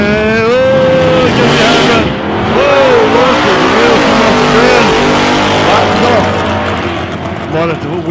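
A big Chevy ute at a drag strip launches from the start line and accelerates hard, a loud, roaring, rising engine note that stays close and intense throughout, while a commentator talks over it.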